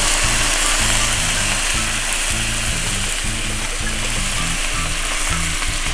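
Onions sizzle and fry steadily in a hot pan as beef broth goes in, a loud continuous crackling hiss with no pauses, close and alone.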